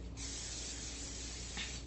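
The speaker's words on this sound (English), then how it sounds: "you just spray it before you bake with this" Cooking spray hisses from an aerosol can into a silicone six-loaf bread pan, one continuous close, steady spray lasting almost two seconds, with no talking.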